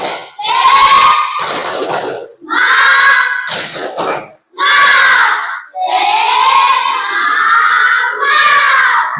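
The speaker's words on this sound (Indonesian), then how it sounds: "sekarang tepuk semangat kembali. Tepuk semangat." An Indonesian classroom of children loudly chanting and clapping in unison in a spirit-clap routine, several rhythmic shouted bursts with brief gaps, close and energetic.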